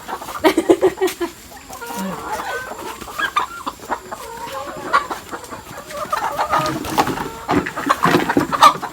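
A flock of chickens clucks and squawks near a coop as its door is swung open on a rural hill farm, busy overlapping calls close by, with occasional scuffling and handling noises.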